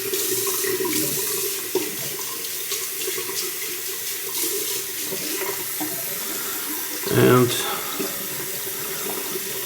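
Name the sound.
water running from a tap into a sink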